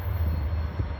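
A southbound freight train hauling wrecked cars rolls past with a continuous low rumble and heavy wheel noise, steady and fairly close, with no voices.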